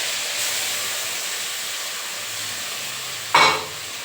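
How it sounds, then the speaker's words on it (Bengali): Shrimp fry in a little oil in a pan, a steady soft sizzle running throughout with a brief louder burst of hiss near the end as something is added or stirred; no talk. "এবারে যে এইগুলো আমি একটু ভেজে নিচ্ছি, চিংড়ি মাছ আছে আর একটু তেল আছে"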